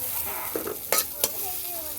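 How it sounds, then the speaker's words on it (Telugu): Flat beans fry and get stirred in a pan, with a steady sizzle underneath and a few sharp scraping strokes of the spoon standing out near the middle. "ఇదిగోండి చిక్కుడుకాయలు అయితే ఫ్రై అయిపోయినాయి"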